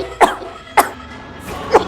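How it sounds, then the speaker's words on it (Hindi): Three sharp coughs sound in quick succession from someone irritated by cooking smoke, close and loud with short gaps between them. "कितनी खांसी आ रही है तुझे।"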